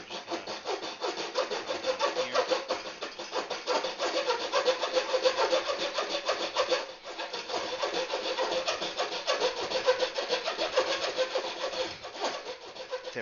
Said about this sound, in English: I've cut about 3/4 of an inch down to that pen line mark that I made.